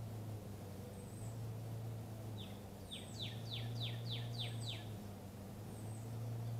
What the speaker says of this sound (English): I hear the birds and bugs giving off the signal again